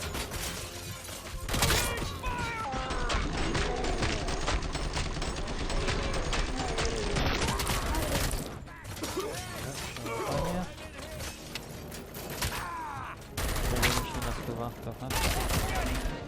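Gunfire in the Robocop Rogue City video game: continuous rapid bursts of automatic shots, loud and near, with short pauses between volleys and someone talking underneath at times.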